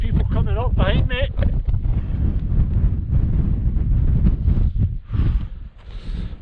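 Cold wind gusts across the microphone on a mountain hike up Buachaille Etive Mòr in the Scottish Highlands, a loud, continuous buffeting roar, with a voice speaking briefly at the start.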